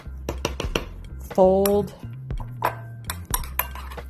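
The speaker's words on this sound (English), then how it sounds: "stir that in, fold it in" A spoon folds coconut whipped topping through yogurt in a bowl, making a series of close, light clinks and taps against the dish, with a brief voice heard partway through.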